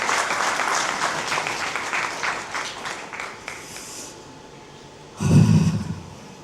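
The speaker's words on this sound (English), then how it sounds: "A huge round of applause for these three girls." An audience at a company town hall claps in a dense, sustained round of applause that gradually thins, then a loud low thump cuts in near the end.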